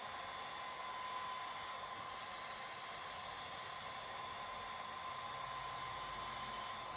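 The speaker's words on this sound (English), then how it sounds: "you'll hear it beep and make like this vibration noise" A steady electronic tone with a faint mechanical hum from a DermRays Revive hair removal laser firing runs continuously, even and unbroken, with no talking.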